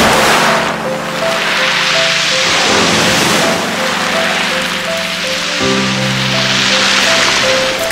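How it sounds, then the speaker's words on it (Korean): Waves washing over a pebble beach in Jeju, loud and close, with surging swells rising and falling in a continuous rhythm; a soft melodic tone hums faintly underneath. "바람소리, 파도소리, 그리고"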